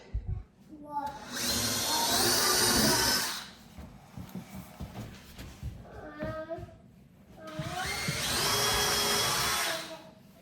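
Power drill driving screws into wooden boards, two long whirring bursts with a rising then falling pitch, separated by a quieter stretch of handling noises, close and loud.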